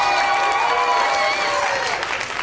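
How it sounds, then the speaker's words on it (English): A live concert crowd cheers and claps during band introductions, with steady applause and cheering at full volume that tapers slightly near the end, while sustained tones ring over the crowd. "Get a round of applause."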